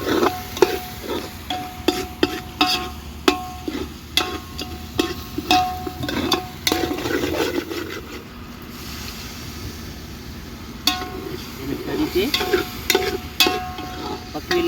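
Masala rice with Maggi masala is stirred in a pan, with rapid, uneven clicks and scrapes of a spoon against metal over a low frying hiss, close and fairly loud, easing off briefly midway before resuming.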